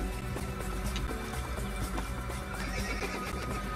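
Horse neighing in the Assassin's Creed video game, a clear whinny rising over a dense, steady game soundscape of music and ambience, fairly loud throughout.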